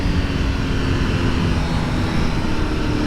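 A 2020 Honda Fireblade engine screams at full throttle in third gear, a loud, steady and dense roar that holds without a break from start to finish.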